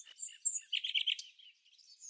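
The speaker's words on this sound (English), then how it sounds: "A secretive little rail with glossy black feathers and a fiery red bill, the black crake." Black crake, a small glossy black marsh rail with a red bill, giving a quick series of high, scratchy chirping calls, close and clear with no other sounds.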